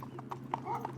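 Horse hooves clip-clopping, a few quick irregular clops close by over a low steady background, lasting only a moment.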